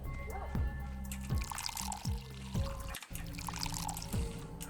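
Water poured from a well in the Pathologic video game, repeated splashing pours in a steady run alongside game ambience and occasional faint voice, moderately loud and close.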